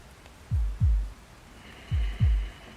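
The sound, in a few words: heartbeat sound from the video game Love and Deepspace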